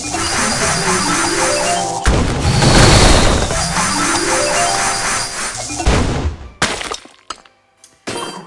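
Power ball and rocket combo detonating in the Royal Kingdom puzzle game: loud, dense crashing and shattering bursts with glassy breaking textures, a second big blast midway, then scattered sharp clicks and pops as the effects settle.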